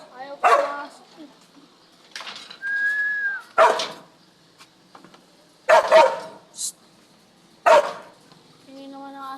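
A dog in training gives several short, loud barks and yips in separate bursts, with a rising whistle between them and brief voices nearby.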